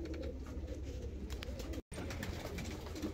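Fancy breed pigeons coo softly and repeatedly in a loft, low murmuring calls that continue faintly throughout, with a brief cut in the middle.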